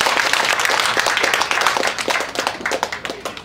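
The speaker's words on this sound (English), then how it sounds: "Everybody clap for Bob and Grace." An audience at a retired teacher's testimonial event claps continuously, a dense, loud patter of many hands that stays steady and then thins slightly toward the end, with no clear speech.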